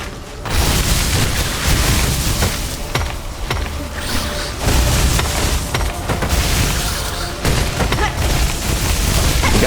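A boss's flail attack in Hollow Knight: Silksong sets off loud, booming explosions with rumbling impacts and clanking mechanisms, a sustained barrage with brief lulls throughout.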